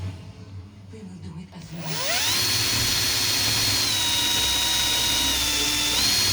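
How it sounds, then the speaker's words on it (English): A power drill bores a hole into wood for a bedroom DVD shelf; after a short quiet start the motor spins up and runs loud and steady to the end, its whine dipping slightly under load. "Should make sure you drill the hole straight."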